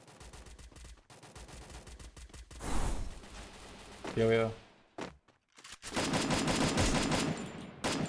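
Rapid bursts of gunfire in a multiplayer shooter video game, loud and repeated in volleys with brief pauses, mixed with a player's voice talking over the shots.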